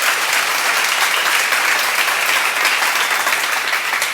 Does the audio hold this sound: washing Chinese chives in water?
no